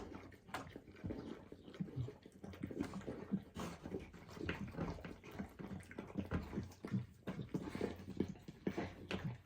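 Newborn Presa Canario puppies whimpering just after birth: soft, thin cries in short bursts, fairly faint, with some wet shuffling underneath.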